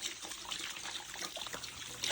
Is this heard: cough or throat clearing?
no